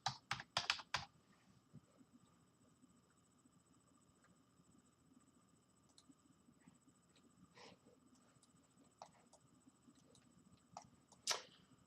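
Fast clusters of computer keyboard keystrokes open the stretch, followed by sparse, faint individual key taps scattered over quiet background hiss.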